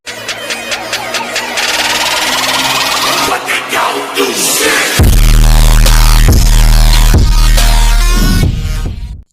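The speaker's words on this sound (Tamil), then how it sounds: "இப்போ வந்து வண்டி ஸ்டார்ட் பண்ணியாச்சு" A bus engine starting in the video game Bus Simulator Indonesia: loud cranking noise, then the motor catches into a steady, heavy throbbing idle with rhythmic pulses, up close and alone.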